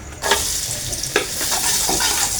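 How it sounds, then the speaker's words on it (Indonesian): Sliced garlic frying in a wok of hot oil for Sundanese dodol, a loud, steady close sizzle with a few sharper scrapes and stirring clicks over it and no talk. "Kita siapkan wajan isi minyak ya. Dan kita siap goreng bawang yang mungkin udah diiris-iris ya."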